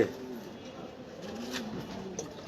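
Pigeons coo softly in a loft during winter, low rolling calls repeating through the clip over a faint background hiss, with no talking.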